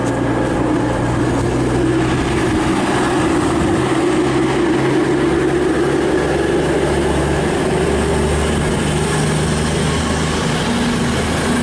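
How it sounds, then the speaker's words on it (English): A British Rail Class 221 diesel multiple unit, 221126, departs for Exeter St David's, its engines giving a steady loud rumble and drone that holds close throughout with no talk. "there goes our train, 221126 to Exeter St David's"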